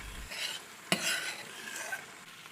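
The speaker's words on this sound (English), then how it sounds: "continue stirring as the berries simmer and thicken" Berries and maple syrup simmer in a pan with a quiet bubbling hiss as a utensil stirs through them, making soft scrapes and one sharp clink against the pan.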